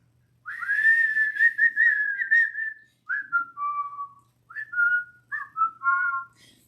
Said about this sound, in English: And try and give us a whistle.